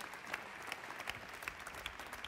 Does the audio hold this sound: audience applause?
yes